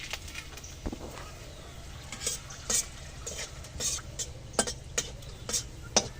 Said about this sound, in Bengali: কড়াইতে তেল দিয়েছি, গরম হয়ে গেছে। এখন ফোড়নে দিয়ে দিচ্ছি শুকনো লঙ্কা,